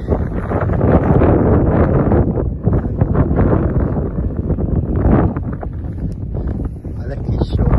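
Strong wind buffets the microphone on a hilltop in rural Almirante Tamandaré, a loud continuous roar with gusty surges that swells and eases throughout.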